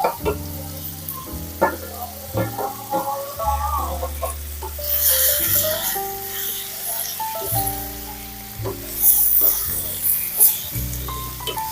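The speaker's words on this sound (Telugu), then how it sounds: "ఇప్పుడు ఇందులోకి ఒక మూడు టమాటాలకి కట్ చేశాను టమాటాలు కూడా వేస్తున్నా" Ridge gourd pieces with freshly added chopped tomatoes fry in a pan for a village-style chutney, giving a moderate sizzle with occasional stirring. Swells of louder hissing come in the middle and near the end, and a voice is heard over it.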